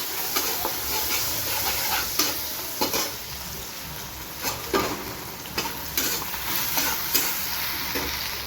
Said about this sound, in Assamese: পিঁয়াজটো মজক ধৰি বন্ধাকবি ভাজি বনাম